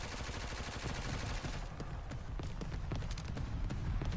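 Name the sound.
SMG gunfire in Forefront VR video game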